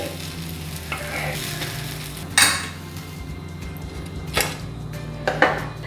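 A vegetarian eggless omelette sizzling in a frying pan, with a soft scrape and clatter as a spatula flips it; a few sharp utensil knocks over the low frying hiss.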